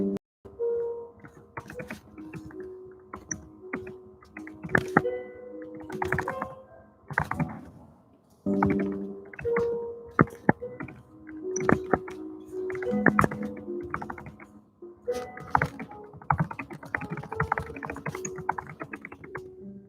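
Steady typing on a computer keyboard close by, with irregular bursts of clicky keystrokes and short pauses between runs, alone without talk.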